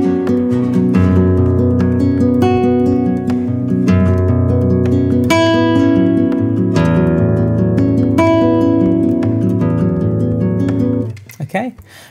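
Classical guitar piece played in 7/8 with the first beat of each bar accented, sustained ringing chords and bass notes in a steady flowing pulse, solo and close, ending in a brief scrape.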